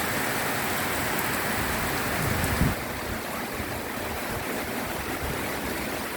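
Rain pours steadily as a dense, even hiss under a house, with one brief louder thump partway through.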